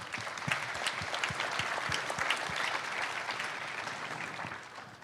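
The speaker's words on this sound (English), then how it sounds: "let's give our panelists a round of applause and welcome them" Audience at a 2022 housing and community development panel breaks into sustained applause welcoming the panelists, dense even clapping from a crowd throughout.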